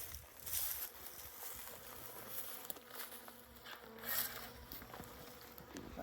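Honeybees from packaged bee boxes buzz in a quiet outdoor setting, a faint continuous drone with brief louder passes as individual bees fly close, plus light rustling.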